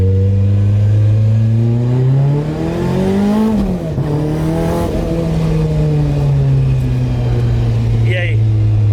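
A Volkswagen Saveiro pickup with a turbocharged AP engine, tuned to 700 hp, revs loudly and continuously up close, its pitch climbing and settling through the run while people talk over the engine noise.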